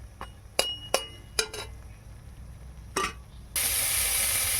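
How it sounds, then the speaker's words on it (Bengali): Bori lentil dumplings fry in a pan: a few light metallic clinks and taps come first, then a loud, steady sizzle rises and continues to the end. "এখানে বড়িটা ভাজছি।"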